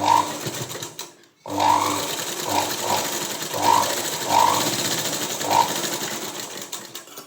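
A sewing machine sews a double stitch through folded cloth, running close with a steady whir, a brief pause near the start and light rhythmic clicks throughout, without speech.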